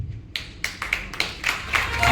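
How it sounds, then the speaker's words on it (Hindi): Audience clapping at a success celebration program, scattered sharp claps starting sparse and thickening into light applause, with a voice talking over it. "तालियों मत बजाइए"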